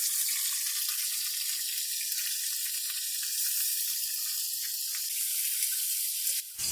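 Mutton frying in ghee or oil in a karahi for Shinwari karahi, giving a steady, close, even sizzle that runs unbroken throughout with no talk.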